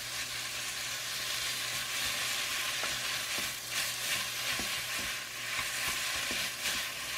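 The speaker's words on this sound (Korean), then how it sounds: "시금치를 열심히 볶아주다가" Spinach stir-frying with oyster sauce in a pan, a constant hissing sizzle with intermittent scrapes and taps of a utensil tossing the greens, close up and without speech.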